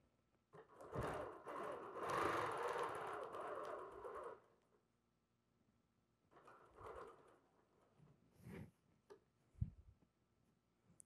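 BERNINA sewing machine stitching around the edge of a quilt, a fast steady whirring run of a few seconds, then quiet, then shorter bursts of stitching with small clicks between.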